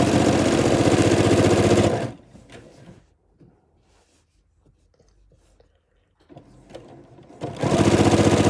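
Sewing machine stitching a kawandi quilt coverlet, a loud steady run at the start, a quiet pause with faint handling noises, then the motor starts again and runs close and strong.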